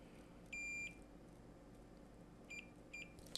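A multimeter's continuity tester beeps during a Sega Genesis repair: one sustained high tone, then two short beeps a couple of seconds later, clear but fairly quiet against a soft room hum, with no speech.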